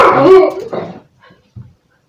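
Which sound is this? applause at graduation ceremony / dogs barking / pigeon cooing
dogs barking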